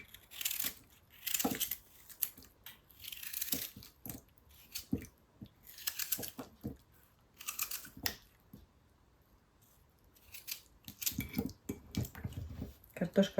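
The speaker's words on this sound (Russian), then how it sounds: "Режу картошку" A knife cuts through large raw potatoes on a board in a village kitchen while cabbage soup is made, giving a series of crisp, irregular slicing and chopping sounds, fairly close, with occasional quiet pauses.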